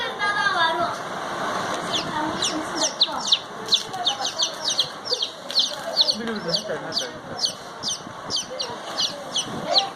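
A hen clucks repeatedly in short, bright bursts near a newly hatching chick, with faint chirps and soft voices underneath throughout.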